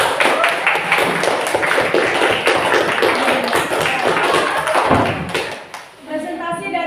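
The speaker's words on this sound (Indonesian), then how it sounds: "Oke, kasih tepuk tangan." Audience applause at a classroom group presentation, a loud, dense patter of many hands clapping steadily for several seconds before thinning out, with a voice speaking briefly at the end.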